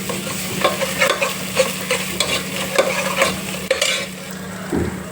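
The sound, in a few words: onions frying with ginger garlic paste, stirred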